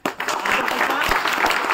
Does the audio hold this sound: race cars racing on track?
no